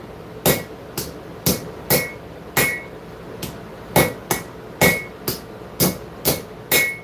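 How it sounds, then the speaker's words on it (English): A forging hammer strikes an anvil in half-on, half-off blows, about fourteen sharp ringing impacts at a steady pace, close and loud, with no voices. "we're going to be doing some half on, half off blows"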